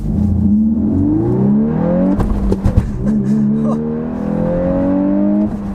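A 2022 Volkswagen Golf R with a manual gearbox accelerates hard along a back road with its exhaust opened up, engine note climbing steadily through a gear, a brief break, then rising again, loud and close.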